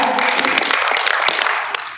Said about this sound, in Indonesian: Kita berikan tepuk tangan untuk pasangan calon nomor urut 2.